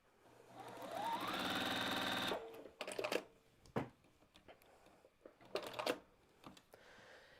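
A sewing machine pieces two fabric pieces together for a quilt-as-you-go postcard, running a steady, loud stitching burst for about two seconds, then giving several short, sharp clicks and brief runs.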